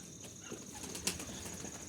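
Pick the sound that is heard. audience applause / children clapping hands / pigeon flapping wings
pigeon flapping wings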